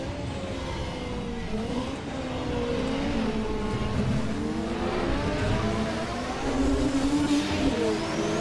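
A racing car's engine screams along the track in a Ford versus Porsche race, its pitch rising and falling through the gears in one continuous, loud, close roar with no talk.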